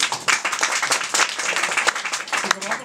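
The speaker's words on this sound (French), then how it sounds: "Sous les applaudissements du public" Lively audience clapping at a cabaret show, uneven bursts of hands with some loud individual claps close by and chatter or cheering mixed in, lasting a few seconds.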